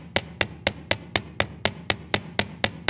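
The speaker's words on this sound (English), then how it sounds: "So you hammer first and then pull." A hammer strikes metal wire to flatten it into a paddle for a jewelry clasp, twelve sharp, evenly spaced taps at a steady rhythm, close and clear with no talk.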